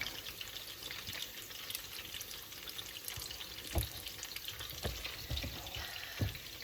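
Sicilian fish fritters bubble and crackle in hot oil with a steady broadband sizzle throughout, broken by a few louder pops and spits near the end, close and with no voices.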